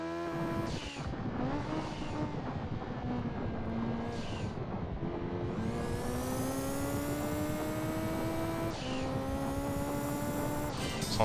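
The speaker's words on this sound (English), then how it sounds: "Sounds more like a motorcycle engine than a boxer." A Subaru Impreza rally car engine in the Gran Turismo 2 video game, on a dirt rally stage, revs in a loud, continuous, high-pitched buzzing drone that climbs through several gear changes, rising and dropping in pitch with no talking.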